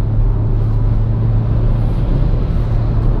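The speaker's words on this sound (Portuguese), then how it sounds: "Vamos fazer aqui 100 a 120 em sexta." Inside a Renault Sandero RS cruising in sixth gear between 100 and 120 km/h, a loud, steady low engine and road rumble fills the cabin without talk.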